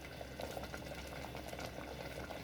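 Dal lentils boiling in a pot, a faint continuous bubbling and popping with soft gurgles, quiet and close, with no voices.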